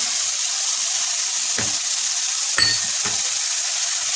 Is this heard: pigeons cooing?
no